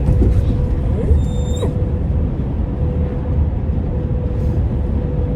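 Traffic on a fairly wide road beside a mountain trail, with a steady low rumble of passing vehicles and a brief brake squeal near the start, heard up close and continuous.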